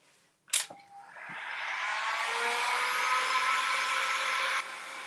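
A hair dryer blows loudly and steadily while drying paint on a pumpkin decoration, starting after a sharp click and whirring continuously to the end, with no talking.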